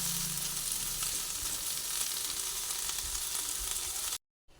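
Chopped tomato stir-fried over a low flame with okra and egg in a pan, an even hissing sizzle that runs steadily before cutting off abruptly near the end.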